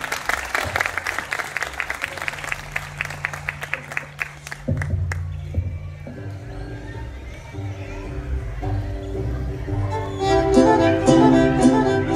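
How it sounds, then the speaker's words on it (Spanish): Audience clapping for a traditional mariachi band at an evening minuet event, starting as rhythmic clapping in time, then giving way to music with a low horn-like drone and brighter tones as the applause blends in. "Por favor, un aplauso para estos hombres."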